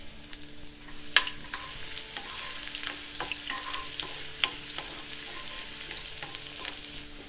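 Finely chopped shallots and green chilies frying in a pan for jeera rice, giving a steady moderate sizzle with frequent small crackles and stirring clicks, no talking.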